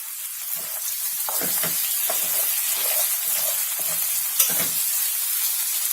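Potatoes cooking in a covered pan give a steady, even hiss with soft scattered crackles throughout, fairly loud and close, with no voices.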